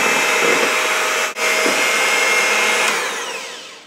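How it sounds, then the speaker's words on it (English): An electric hand mixer blends chocolate cake batter in a bowl, a steady loud whirring drone with a brief cut in the middle before it runs on and slowly fades toward the end. "what I'm going to do now is turn on the hand mixer again"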